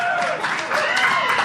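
A live show audience at the Beverly Garland cheering and clapping, a dense, loud roar of applause with whoops, heard close and continuous for the whole moment.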